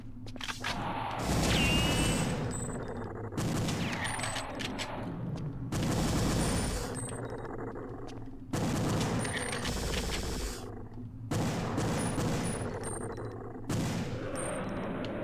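Gunfire in the video game Perfect Dark rattles in loud, dense bursts that repeat every couple of seconds with short gaps between them, and a voice is faintly present.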